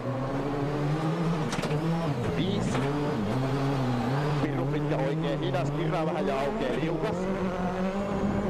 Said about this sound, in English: Terrific shots here from inside Mikko's car as he flashes past the packed grandstands